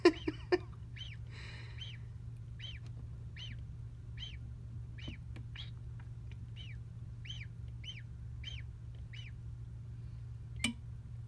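A gosling hatching inside an egg in an incubator peeps in a steady series of about a dozen high, clear chirps, close and distinct over a constant low incubator hum.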